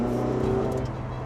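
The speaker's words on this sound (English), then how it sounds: "I feel guilty opening the throttle on public roads, Steve." A supercar engine rises in revs as the throttle opens, a loud, close, steady growl with a brief swell, heard alone without voices.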